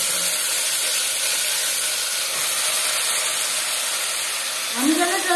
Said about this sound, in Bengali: 3 চামচ সরষের তেল গরম করে নিয়েছি। এবার দিয়ে দেব ম্যারিনেট করে রাখা।